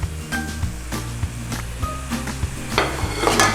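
Spices sizzling in a pan with onions, chilies and tomatoes for chicken saagwala, with a steady fry under a spoon's rhythmic stirring and scraping strokes, close and alone with no talk.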